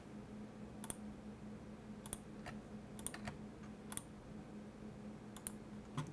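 Sparse computer keyboard and mouse clicks while working in Photoshop, a dozen or so sharp separate taps at an uneven pace over a steady low room hum, fairly quiet and close.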